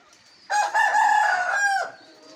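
A rooster crows once, loud and close, a single drawn-out call of about a second and a half among farm chickens, with nothing else heard.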